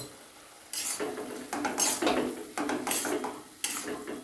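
A spoon stirs a small amount of ginger into vegetables cooking in a pot, giving several distinct scraping, clinking bursts against the metal with brief pauses between them, close and fairly loud, with no talking.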